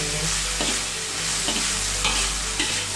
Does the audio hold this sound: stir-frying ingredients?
yes